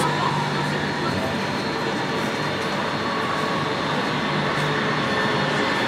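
Trams rumble steadily along a busy avenue in Gothenburg, a continuous low roar with faint squeals from the rails.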